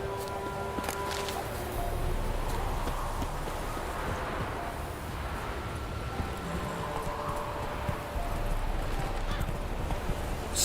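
Roach, the horse in The Witcher 3, walks with a steady clip-clop of hooves on the ground, moderately close, along with light rustling and a brief whinny. A voice speaks over part of it.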